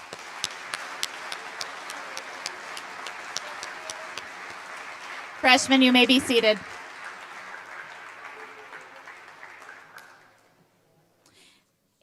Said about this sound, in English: Let's give these freshmen a round of applause.